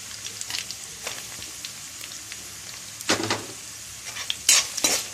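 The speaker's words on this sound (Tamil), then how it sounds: "தேங்காய் சேர்த்து நல்லா வதக்கிக்கலாம்." Grated coconut and brinjal are stirred and sautéed in hot oil, giving a soft steady sizzle with scraping, clinking stirs and a few sharper taps against the pan.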